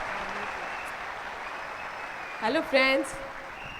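Steady, fairly faint applause from an audience at a live event, a soft continuous patter throughout, with a voice briefly speaking over it near the end.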